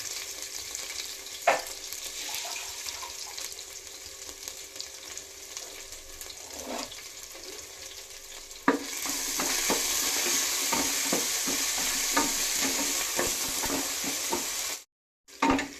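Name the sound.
ginger garlic paste frying and stirred in hot pressure cooker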